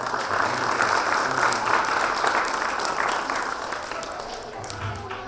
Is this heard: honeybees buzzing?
no